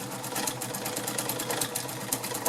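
A vintage White model 533 sewing machine running steadily on fabric, its needle clattering in a fast, even rhythm with a continuous mechanical whir, close and alone.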